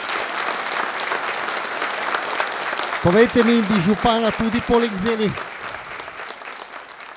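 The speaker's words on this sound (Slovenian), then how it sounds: "En aplavz seveda za vetrovnike iz občine Kidričevo" Steady applause from an audience for the wind players of Kidričevo at a folk music show, continuous and fairly loud, with someone speaking over the second half.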